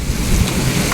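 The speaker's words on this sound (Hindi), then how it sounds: "तो बारिश की जो है इधर जा रही, नहीं तो सीधी नहीं गिर रही" Heavy rain during a storm falls on a balcony, a loud, dense, steady hiss and rumble pushed by strong wind, with no voices heard.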